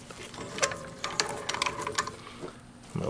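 Ratchet wrench loosening a front brake caliper bolt on a 2019 Honda Pilot during a brake pad and rotor job, heard as close, rapid bursts of metallic clicking with brief pauses between pulls.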